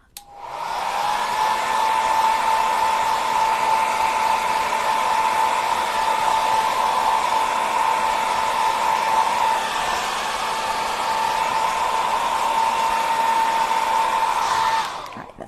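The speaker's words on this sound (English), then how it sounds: "let me reach my blow dryer" A hair dryer switches on and blows with a loud, steady whooshing hum for about fourteen seconds, then cuts off, with no voices.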